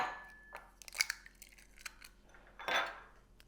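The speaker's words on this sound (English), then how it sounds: "crack the eggs open and break them into the bowl one at a time" Eggs cracked against a bowl and broken into it one at a time, giving a few sharp clicks and taps followed by a louder crunching crack near the end, close and otherwise quiet.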